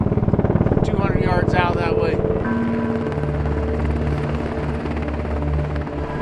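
A Black Hawk helicopter hovers close overhead near a cliff, its loud steady rotor thump and engine whine filling the scene while a voice talks over it during the first seconds.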